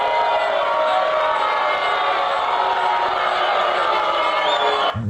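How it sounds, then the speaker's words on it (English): Large political rally crowd loudly booing Senator Mike Lee, a dense, sustained roar of many voices at full volume that holds steady for several seconds before cutting off abruptly. "pump that audience booing Senator Mike Lee right into my veins"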